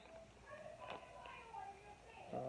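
Faint, muffled voices of people arguing drift in from somewhere distant, indistinct and low in level, rising and falling without clear words.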